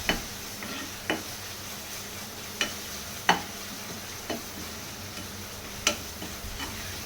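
Tomatoes sautéing in a cooking pan, with sparse, sharp spatula scrapes and taps against the pan every second or so over a faint, steady sizzle, with no voices.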